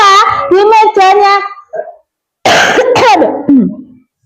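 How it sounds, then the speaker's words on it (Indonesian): A teacher in a classroom coughs a few times in close succession, brief harsh bursts with a throat-clearing quality, alone with no talk over them. "maaf, Ustazah batuk ya."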